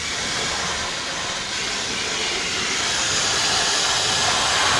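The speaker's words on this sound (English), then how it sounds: "I'm actually spraying the top of the frame rails here and the top of the cab mount, and also the top of the engine mount." A spray gun hisses steadily as rust-proof undercoating goes onto a truck's frame rails, cab mount and engine mount at an undercoating shop, loud and close for the whole stretch.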